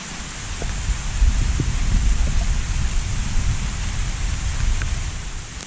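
A rainstorm pours over a freshly graded, crowned gravel driveway, producing a dense, loud, continuous hiss with a rumbling low end and no voices.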